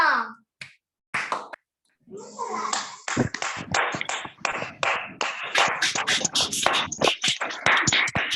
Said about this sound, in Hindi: बहुत ही जोरदार प्रस्तुति, जोरदार तालियां।